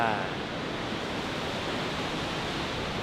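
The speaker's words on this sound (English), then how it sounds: "we're currently at the Kegon Waterfalls." Kegon Falls waterfall in Nikko, Japan, a steady, broad rushing roar of falling water, constant and fairly loud with no breaks, with no talk over it.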